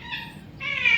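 A pet rescued cat meows close by indoors at bedtime, one drawn-out call that rises in pitch and grows louder toward the end, with no other sound.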